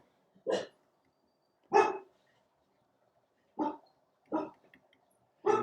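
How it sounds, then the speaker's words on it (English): Five separate dog barks with pauses between them, fairly close, with nothing else but quiet in between. "of course they're barking"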